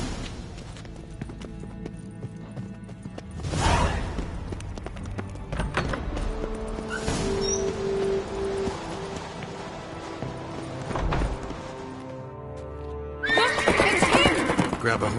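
Horses gallop and whinny in a medieval fantasy video game chase, with hoofbeats and neighs over background music, a loud burst near the end.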